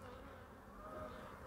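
Honey bees buzz steadily at a beehive, a dense continuous drone close by with no voices.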